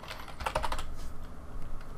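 Typing on a computer keyboard to search SketchUp extension tools: a quick cluster of light, close key clicks, then quieter scattered taps over a soft background hum.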